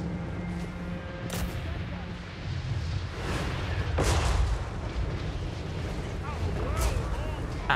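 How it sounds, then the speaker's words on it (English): Cannon fire in Total War Warhammer 3 during a battle against dwarfs, with several heavy booms and crackling impacts over a dense, continuous battlefield din, louder bursts spaced a second or two apart. "it's the cannons that are firing at me"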